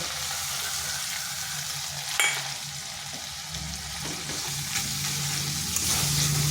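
Ground cumin, coriander, chilli and turmeric with a little water sizzle steadily in a pan for a potato and pointed gourd curry, with a sharp scrape of stirring near the middle.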